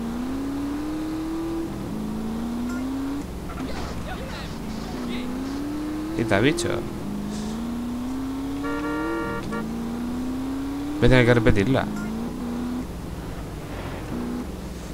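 Motorcycle engine in a GTA San Andreas street race through heavy traffic, droning and rising in pitch through repeated gear changes, with brief crashes and other traffic noise, while someone talks over it.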